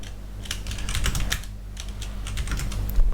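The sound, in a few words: typing on a computer keyboard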